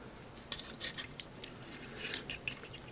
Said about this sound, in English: they will kind of click into place